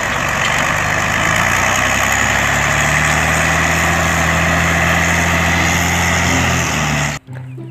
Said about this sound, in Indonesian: Ini dump truck pasir.